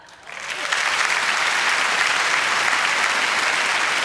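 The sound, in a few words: audience applause at a comedy show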